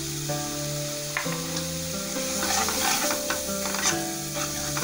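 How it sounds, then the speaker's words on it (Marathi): Spice masala of turmeric, coriander powder and Punjabi masala frying in oil for a veg bhuna gravy, producing a steady close sizzle with stirring, while a faint tonal sound hums underneath. "आता आपला मसाला जो आहे तेलामध्ये छान फ्राय करून घ्यायचा आहे"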